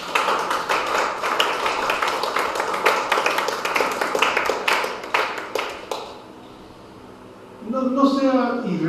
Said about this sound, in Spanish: Dele palmas fuertes